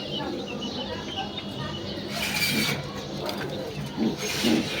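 A pair of pigeons coos softly in a loft, with low, murmuring calls over a constant background hiss and a voice speaking nearby.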